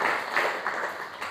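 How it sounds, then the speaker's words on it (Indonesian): Church congregation clapping during a worship service, a steady wash of dense applause with surges in intensity, fairly loud and continuous throughout. "Beri tepuk tangan terbaik buat Tuhan"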